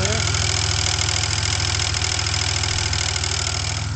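A 1999 Buick LeSabre engine idles with the air conditioning compressor running, a steady close rumble with a faint rhythmic clatter throughout.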